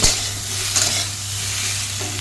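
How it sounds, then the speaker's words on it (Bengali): Potatoes frying in a pan, a steady close sizzle and hiss with faint stirring, brief and continuous. "এই আলুগুলোকে সুন্দর করে ভেজে নিচ্ছি।"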